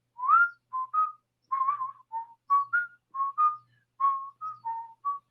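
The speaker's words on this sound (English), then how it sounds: "And at the end, we do some whistling." A group whistles a melody, short clear tuneful phrases with brief pauses between them, close and moderately loud with no talk.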